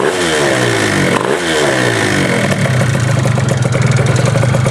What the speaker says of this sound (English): Blowing some of the carbon out.